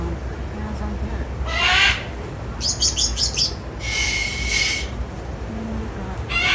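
Pet parrots such as a sun conure, peach-faced birds and an Amazon parrot chirp and squawk in short bright bursts at the Arizona State Fair, over a steady crowd murmur.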